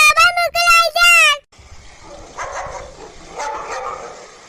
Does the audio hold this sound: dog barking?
yes